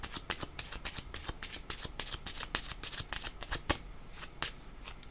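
Tarot cards being shuffled by hand during a reading, a rapid run of close, crisp riffling slaps that goes on steadily throughout without any speech.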